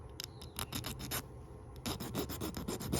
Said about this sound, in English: And we're just gonna take our file, come in here, lay off a little bit.